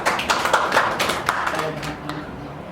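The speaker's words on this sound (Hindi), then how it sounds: "मैं तालियों के साथ स्वागत करूंगा श्रीमान प्रमोद त्रिवेदी सर का" Scattered hand claps from a small audience welcoming a speaker, a handful of distinct claps that quickly fade, leaving a quiet room with faint background sound.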